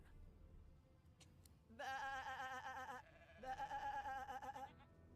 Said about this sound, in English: That is a sheep.